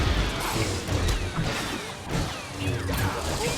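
Busy, dense game audio from the Duel of Fates lightsaber fight in the Lego Star Wars Switch port: clanking mechanical clatter, swishes and smacks over a rumbling, continuous mix, loud and steady throughout with no talking.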